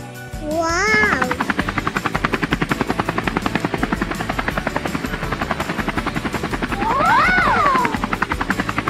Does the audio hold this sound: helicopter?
yes